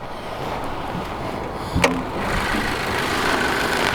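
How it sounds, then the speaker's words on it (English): The 2.0-liter boxer four-cylinder engine of a 2018 Subaru Impreza Sport idles with a steady, even hum and a brief sharp click partway through. "And here's that really cool boxer four-cylinder engine. This is a 2-liter version."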